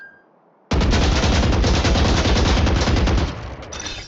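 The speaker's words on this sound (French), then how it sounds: "Touche la cible du milieu avec un tir continu." In the video game Valorant, a weapon sprays continuous automatic fire at a training target, a rapid loud burst of shots that starts abruptly after a short quiet beep and runs for about three seconds before tapering off.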